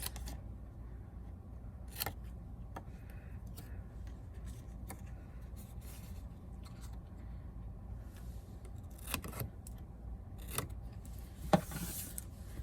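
Scissors cut paper for a Christmas craft in a few quiet, scattered snips and crisp scrapes, close by over a low steady background hum, with no talking.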